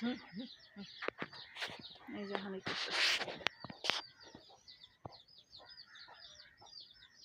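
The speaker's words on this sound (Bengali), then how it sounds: "মুরগি" Village chickens cluck and call softly in short scattered bursts at moderate distance, with people talking over them.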